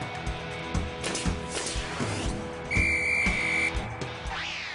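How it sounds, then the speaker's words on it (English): A referee's whistle gives one sharp, steady blast lasting about a second, heard over busy background clatter and other noises. "there's no mistaking that whistle"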